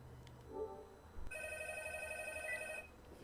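A telephone rings in the Call of Cthulhu video game, a brief electronic tone followed by a longer sustained ring, fairly quiet and heard alone.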